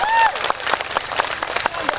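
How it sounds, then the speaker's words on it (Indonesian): A crowd at a public religious gathering in Sialang Rinda village claps for the regent, a dense patter of hands with sharper individual claps standing out, while a voice briefly carries over the start. "Tepuk tangan dulu dong buat Bupati panjenengan"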